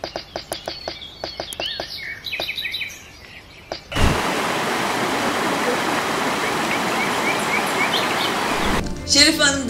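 A babbling forest stream rushes in a steady, full wash of flowing water for several seconds, preceded by scattered bird chirps over quieter ambience.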